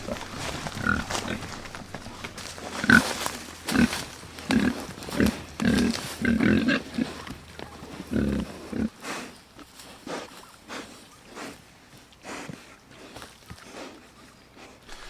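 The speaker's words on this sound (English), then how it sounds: "There was just a pig with its head right up against the wire." Pigs on a homestead grunting and snorting up close against a wire fence, a series of short irregular snuffles and grunts with rustling and footsteps, growing sparser and quieter toward the end.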